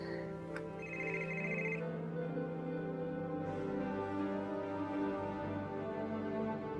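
A telephone rings indoors with a short repeated electronic trill near the start, then a steady low hum fills the room afterward.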